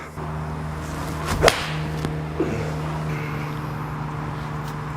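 One sharp crack of a TaylorMade iron striking a golf ball cuts through steady outdoor hum, followed by a couple of faint ticks.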